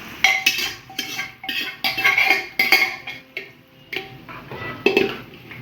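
Mutton and kardai greens tipped into roasting masala in a pan, a series of close clinks, scrapes and clatters of a utensil against the pan at an uneven rhythm, with no talking.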